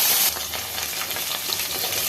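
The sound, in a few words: cumin, cinnamon and cloves frying in hot oil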